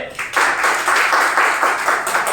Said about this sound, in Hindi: बजाओ भाई ताली